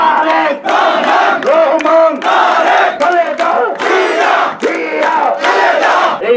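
A large crowd at a Bangladeshi political rally chants slogans loudly in unison, in a steady repeating call-and-response rhythm of rising and falling shouted phrases, close and continuous throughout.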